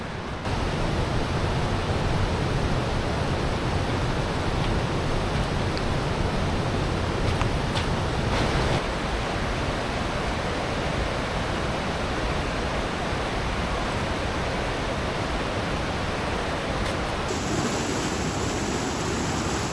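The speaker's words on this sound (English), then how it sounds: "straight ahead you've got the big waterfall" Steall Falls, a big waterfall in a Scottish mountain gorge below Aonach Beag, a dense continuous roar of falling water, loud and steady throughout with no voices.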